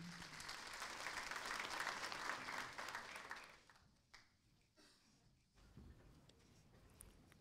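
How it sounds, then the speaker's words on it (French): An audience claps at an opening ceremony in Conakry, a dense burst of applause for about three seconds that fades to scattered claps and thumps of a quieter room. "Sous vos applaudissements, s'il vous plaît."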